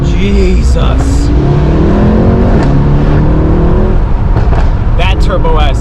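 A Mercedes-AMG E63 S Turbo S accelerates hard, its engine roaring loudly and climbing through the revs with a quick gear change, under excited talk from occupants.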